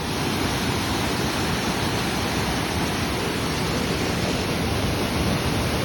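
A hidden waterfall at Blathur in Kannur roars as a dense, unbroken rush of falling water, loud and close, with no other sounds above it.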